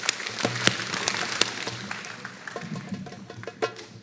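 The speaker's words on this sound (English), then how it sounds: "Clap your hands 3 times." A gathered group at a Spiral Dance ritual claps hands together in scattered, uneven bursts, with many sharp hand claps overlapping at moderate distance rather than in a tight unison count.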